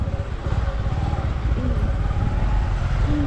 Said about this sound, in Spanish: Y yo estoy veniendo con la moto.